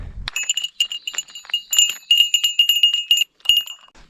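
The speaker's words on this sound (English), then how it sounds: "I'm gonna go ahead and take my bear bell out just in case, at least to make a little bit of noise" A small bear bell carried on a mountain hiking trail in the Yatsugatake range of Japan jingles in a quick, uneven run of bright clinks, close and fairly loud, with a short pause near the end.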